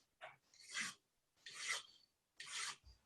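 A hand file rasps against a raw cast metal ring, three separate swift upward strokes, each a gritty scraping burst with short pauses between, close and fairly quiet.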